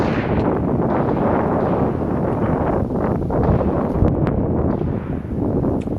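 Strong outdoor breeze buffets the microphone, a steady loud roar of wind noise lasting throughout with slight gusty swells and no clear talk.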